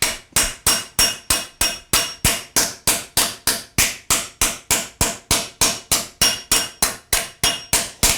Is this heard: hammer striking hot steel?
yes